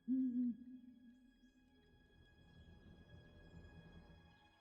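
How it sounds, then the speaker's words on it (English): A video game dinosaur creature gives a short, loud, owl-like hoot at the start, followed by a low droning tail and quiet background hum. "I hate that she sounds like an owl."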